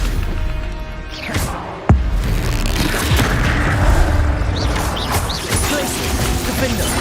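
Stupefy spell cast during Hogwarts Legacy combat, a sharp cracking boom that breaks through a dense bed of rumbling battle noise, followed by further crashing impacts, with a voice talking over it.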